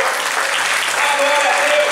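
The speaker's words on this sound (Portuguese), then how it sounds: "Dá uma salva de palmas ao Senhor." A church congregation claps together in a dense, loud, continuous wave of applause, with a voice faintly audible beneath it.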